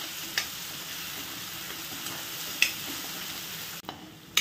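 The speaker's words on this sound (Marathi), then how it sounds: "वाटण आपल्याला तेलामध्ये व्यवस्थित असं भाजून घ्यायचं आहे" Ground masala paste roasts in oil with a low, continuous sizzle, broken by a few sharp ladle taps and scrapes against the pan.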